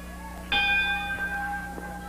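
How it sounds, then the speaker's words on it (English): A ring bell clangs once in a 1980 Memphis TV wrestling match featuring Jerry Lawler, its sharp strike followed by a long metallic ringing tone that slowly decays, with fainter knocks afterward. "Bell time"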